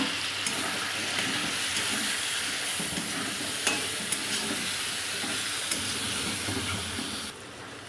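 Tomatoes with garlic and ginger sizzle steadily in a pan for a chicken handi, with a continuous frying hiss broken by a few soft stirring scrapes and clicks; no voices.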